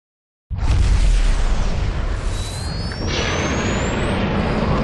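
A heavy bomb blast in BioShock 2 erupts suddenly after a short silence, a loud broadband boom that rolls into a sustained roaring rumble, with a rising whistling tone streaking over it.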